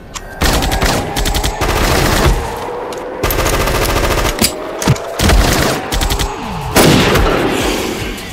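Rapid bursts of machine-gun fire and gunshots in an action film scene, loud and close, rattling in repeated volleys with brief pauses between them.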